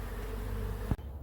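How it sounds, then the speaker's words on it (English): Bees buzz steadily around a bee box holding salvaged comb, a dense close hum that runs continuously for about a second, with a brief thump before it dips. "I've just come back to check the bees, make sure they've also made their way towards the bee box"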